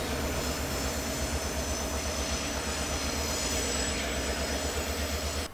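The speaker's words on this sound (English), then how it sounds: "Two Canadian Pacific GP38-2s run light to rescue a disabled train 458 on May 28," Two Canadian Pacific EMD GP38-2 diesel locomotives run light with no train, giving a steady loud engine drone and rail rumble with high wheel squeal, close by and constant throughout.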